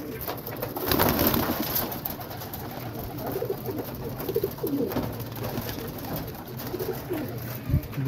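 Pigeons coo repeatedly nearby in soft, throaty bursts over a faint background hum, with no talking.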